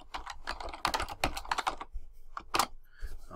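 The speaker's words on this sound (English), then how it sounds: "So you type your essay" Someone types an essay question on a computer keyboard, producing close, uneven runs of crisp key clicks broken by short pauses.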